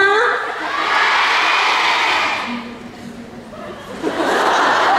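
An audience at an INFINITE fan meeting in Macau cheers and shouts loudly, dips briefly to a quieter murmur, then swells into cheering again near the end.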